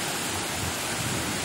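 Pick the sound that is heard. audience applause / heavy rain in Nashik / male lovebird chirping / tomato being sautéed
heavy rain in Nashik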